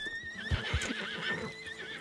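A horse in Red Dead Redemption 2 Online whinnies in a long, wavering, high-pitched call, with a couple of heavy thuds near the start.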